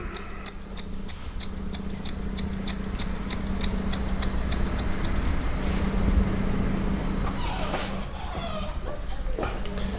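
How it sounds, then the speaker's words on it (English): Regular haircutting scissors snip rapidly through hair during an Ivy League cut, a quick run of crisp, close clicks that speeds up and thins out, with faint background noise underneath. "Normal scissors."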